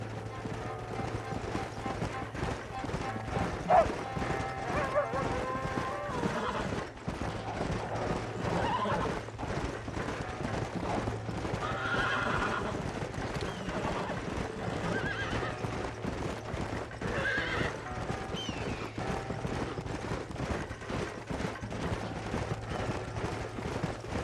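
Horses whinny and hooves clip-clop steadily over a droning musical backdrop in the video game Red Dead Redemption, with people talking throughout and occasional sharp mechanical clicks.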